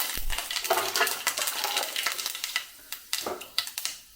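Mustard seeds crackling in hot coconut oil over a low flame, a dense run of sharp sizzling pops that thins into scattered louder spits toward the end, close and with no voices.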